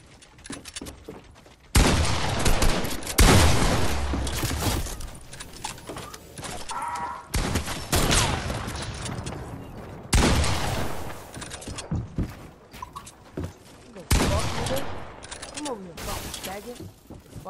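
Rapid bursts of gunfire crackle through a battle royale shooter match, dense volleys repeating in waves over game effects and background noise, with a player talking over the action.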